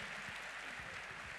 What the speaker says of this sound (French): je vous invite à applaudir notre panel